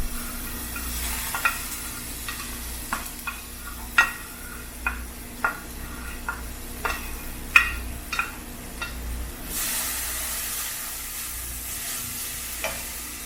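Chillies stir-fried together in a tablespoon of oil for spicy spring rolls, giving a steady near sizzle broken by repeated sharp stirring scrapes and clinks, with a brighter hiss swelling toward the end.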